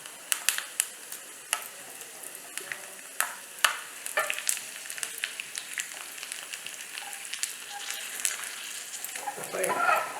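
Cashews and raisins fry in a pan for a Maha Shivaratri prasadam, giving a steady close sizzle and crackle with scattered sharp pops throughout, plus a brief stir near the end.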